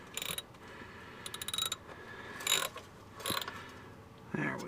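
Ratchet clicking as it snugs down the transmission pan bolts on a 1996 Monte Carlo during a fluid change, in several short bursts of rapid close clicks separated by quiet gaps, with no talk.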